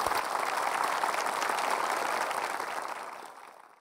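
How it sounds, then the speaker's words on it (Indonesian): An audience applauds for a coach at a savings and holiday talk, dense sustained clapping that holds steady before tapering off toward the end. "Ayo tepuk tangan dulu dong buat Coach Safir."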